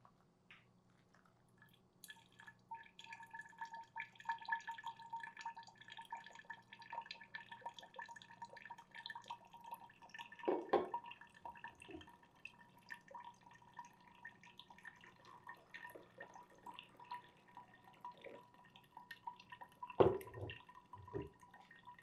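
Brewed coffee dripping through a paper filter in a Melitta-style or V60 pour-over, soft, close, irregular drips and trickles with a quiet liquid patter, faint throughout and alone without talk.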